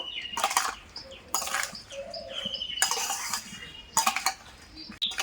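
Fried spices being worked into green chillies for a homemade pickle, a utensil scraping and clattering against the bowl in short, irregular bursts, with faint chirps in the background.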